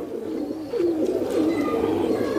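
Kaldume pigeons from Sambhal coo in soft, rolling phrases, one bird's call swelling louder partway through over a low, steady background.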